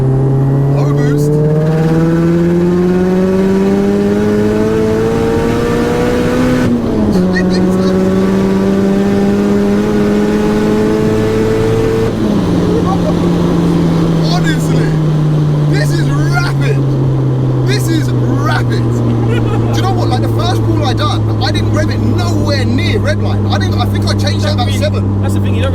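A dry-sumped 600bhp tuned Mazda MX-5 accelerates hard in third gear on low boost, its loud engine note climbing and dipping through gear changes over a long run, with voices talking over the roar.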